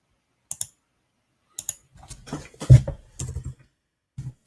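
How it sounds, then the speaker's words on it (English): Keystrokes on a computer keyboard during a live forex trading session, coming in short irregular bursts of clicks with gaps between them, close and fairly quiet, with no talking. "I'm done typing now"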